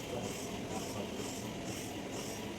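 A steady, rumbling metro train heading to Esplanade runs throughout, a continuous rolling roar with faint rhythmic rattling of the carriages.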